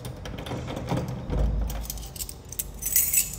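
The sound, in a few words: keys jangling while unlocking a lock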